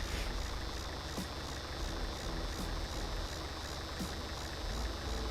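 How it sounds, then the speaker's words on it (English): A tractor engine runs steadily in the Close to Home video game, a constant low rumbling idle with a faint rhythmic knock, unbroken and moderately quiet throughout. "Put fuel in tractor."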